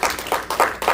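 Audience clapping in short bursts, with several swells of applause rising and fading over a single second, moderately loud and close, with no talking over it.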